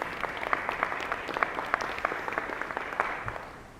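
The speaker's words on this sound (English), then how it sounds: "So now we can clap." Applause from the audience at a school board meeting, a steady patter of many hands clapping at moderate distance that continues evenly and tapers slightly at the end.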